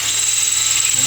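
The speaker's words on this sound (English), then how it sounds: "Just for the record, guys, that's a drill bit." A power drill whines steadily at high speed, loud and close, grinding into a metal bolt on a McLaren P1 for a brief burst.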